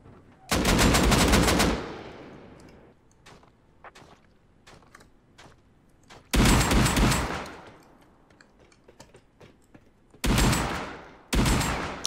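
Loud AK rifle fire in a video game compound fight comes in three or four long, close automatic bursts of roughly a second each, separated by quieter gaps holding faint distant shots and clicks.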